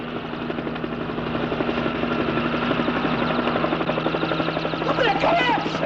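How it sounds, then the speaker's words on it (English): A helicopter flying overhead, a steady throbbing rotor drone with rhythmic blade chop that holds at a constant level, while people shout to one another over it. "It's a helicopter!"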